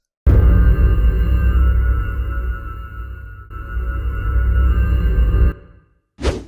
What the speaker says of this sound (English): I'll get the sound of a wither skeleton spawning and chuck it in reverse